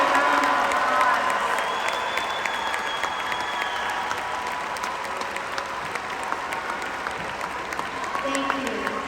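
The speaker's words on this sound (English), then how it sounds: "And please give them a round of applause" Sustained applause from a large audience at a class of 2022 graduation ceremony honoring high honor students, a dense steady roar of many hands with some cheering mixed in, loud and continuous throughout.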